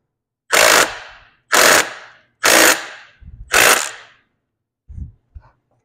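An impact wrench tightens the flywheel nut on a Honda GX340 engine in four loud, evenly spaced rattling bursts, each about a quarter second long, followed by a couple of faint clicks.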